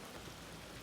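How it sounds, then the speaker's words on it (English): Heavy rain pours steadily onto a front yard as a sudden shower arrives, a dense, even hiss with no breaks over a very short span. "All of a sudden, it's pouring in the front yard"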